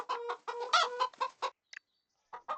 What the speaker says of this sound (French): on s'occupe de nos poules